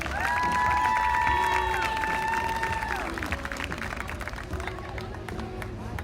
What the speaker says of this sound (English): A big round of applause for Madison Fritz.